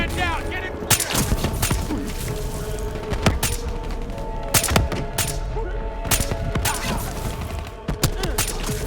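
Sustained machine gun fire in Call of Duty: Black Ops III, a Veteran-difficulty campaign mission, with sharp cracking shots scattered across a loud, busy battle din.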